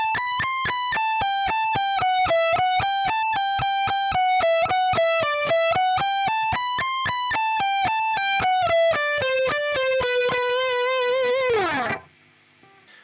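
Distorted electric guitar plays a solo lick slowly, a steady run of evenly picked triplet notes climbing and falling, close and loud, ending in a quick descending slide before cutting off.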